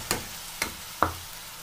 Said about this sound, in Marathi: मी डाळ टाकून याला हलवून घेतलंय।